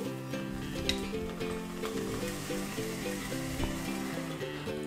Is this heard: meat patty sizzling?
yes